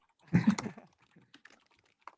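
A half-broken computer keyboard being typed on, one loud clattering burst of keys followed by a few sparse, softer clicks and taps.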